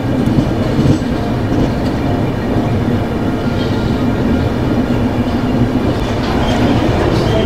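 The 12317 Akal Takht Express passenger train runs on the tracks in foggy winter weather. A steady, loud rumble of rolling wheels and a rattling carriage carries on throughout, close up, with no voices.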